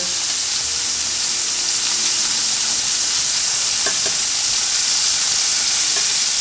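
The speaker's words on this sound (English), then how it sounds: "The grease is popping." Duck pieces and tenderloin frying in hot grease, a loud continuous sizzle with occasional sharp pops, close and with no talking.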